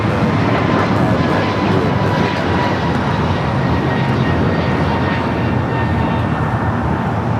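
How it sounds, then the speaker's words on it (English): An American Airlines Airbus A321neo takes off at LAX bound for Miami, a steady, loud broadband jet roar that holds for several seconds with no clear rise or fade. "This is American Airlines 1086 taking off to Miami, Florida off the A321neo"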